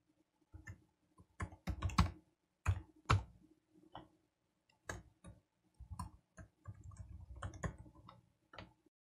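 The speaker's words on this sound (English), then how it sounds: "So I'll type call and then space plug." Typing on a computer keyboard in Vim: close, quiet key clicks land in irregular bursts and single taps with short pauses between them. No voice is heard.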